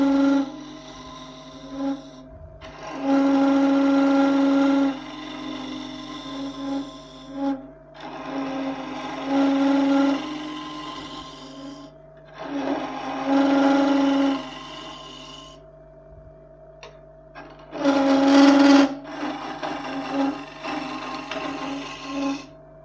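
Wood lathe turning a thin-stemmed goblet with a gouge, a loud tonal whine and squeal in repeated bursts of several seconds, separated by quieter spinning hum, close and without speech.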